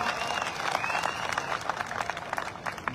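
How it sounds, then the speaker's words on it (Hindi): Loud crowd applause at an AWPL gathering in Jodhpur, many hands clapping densely and steadily with some crowd murmur mixed in, ending abruptly in a sharp burst. "पुराने लोगों के लिए ताली बजाओ जोरदार।"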